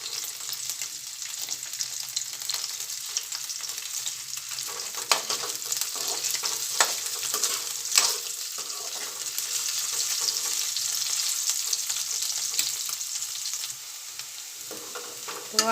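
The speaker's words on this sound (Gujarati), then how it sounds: "હવે એને આપણે તેલમાં ઉપર ક્રિસ્પી થાય ત્યાં સુધી આપણે સાતળી લઈશું" Partly boiled potatoes fry in oil until crisp, a loud, steady hiss and crackle of sizzling that runs throughout with occasional stirring scrapes, close up and without speech.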